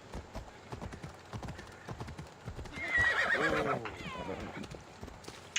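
A horse in the Greek open-world game Assassin's Creed Odyssey trots with steady clip-clop hoofbeats and lets out a drawn-out whinny in the middle, with someone talking intermittently around it.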